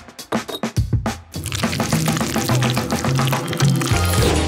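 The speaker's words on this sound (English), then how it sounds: "I'll put it in a syringe and pour it inside the tubes." Liquid gelatin mixed with sugar and water is pushed from a syringe into tubes in a kitchen, giving a short run of taps and clicks followed by a continuous wet, trickling pour close to the microphone.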